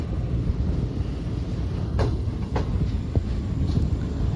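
Inside the Awam Express, a cheap, frequently stopping passenger train running from Rawalpindi to Peshawar in Pakistan, a loud, steady low rumble rolls on throughout, with a few brief metallic clanks and rattles from the carriage and no talking.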